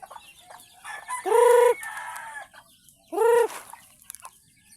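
Two loud, drawn-out chicken calls a couple of seconds apart, with softer clucking and farmyard murmur between them, ducks also present.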